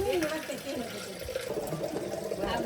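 Water runs into a metal pot during a baby shower ceremony, a steady gushing fill heard under lively chatter from several people nearby.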